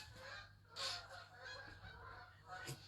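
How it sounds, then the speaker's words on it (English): Geese honking outdoors as they head back up to roost, a few distant calls rising over a steady low hum and background noise, with a louder honk near the end. "Can you hear the geese?"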